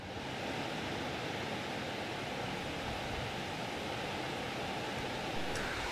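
A waterfall beside a steep mountain trail on the northern Kungsleden between Vakkotavare and Abisko in Lapland, a dense, steady rushing roar of falling water that stays loud and constant with no voices.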